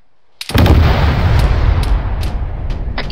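A tank gun fires in an ARMA 3 battle: one loud, sudden blast after a short silence, then a long rumbling roll of echo fading slowly, with faint distant cracks mixed in.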